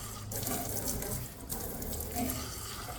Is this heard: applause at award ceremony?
no